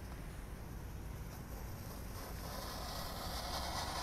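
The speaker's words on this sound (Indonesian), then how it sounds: "Lanjut kita nyalakan Konik Fountain. Ini yang lebih besar, ukuran 5 ya." A large size 5 cone fountain firework burns with a continuous rushing hiss and roar, steady and fairly close, growing slightly brighter toward the end, with no speech.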